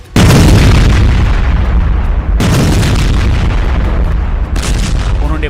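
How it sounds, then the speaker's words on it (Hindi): Bunker buster bombs explode in heavy, loud booms. A sharp blast at the start is followed by another about two seconds later, with a lesser burst near the end, each leaving a long, thunderous rumble. "उन्होंने बंकर बस्टर के धमाके किए,"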